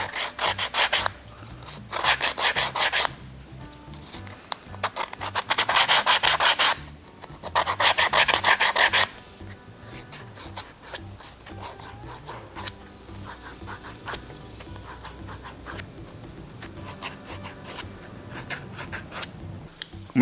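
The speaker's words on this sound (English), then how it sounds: "I'm just going to do a little hand sanding in the holes and in the lines" Hand sanding inside routed marble holes and grooves on a pallet-wood tic-tac-toe board, close up, with three bursts of brisk rasping strokes followed by quieter, lighter rubbing and scratching.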